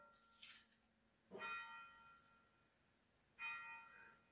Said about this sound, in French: il y a les églises qui sonnent les cloches encore